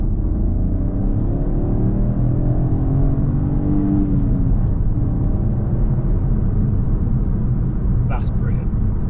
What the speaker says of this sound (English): how it drives and the engine sound, which I hope you can hear